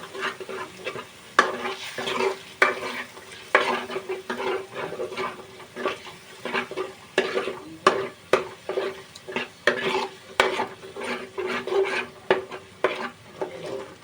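Yogurt masala gravy for egg tikka masala is stirred in a pan on a low flame, with a soft steady sizzle and repeated scraping strokes of a spoon against the pan at an uneven rhythm, close up and without talk.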